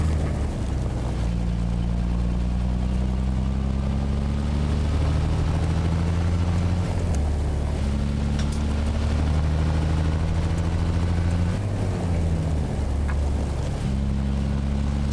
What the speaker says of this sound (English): So this engine, I got an 855 in here.